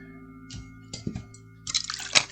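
Tap water splashing and dripping during face washing at a sink, a few separate splashes and drips followed by a louder burst of running water near the end.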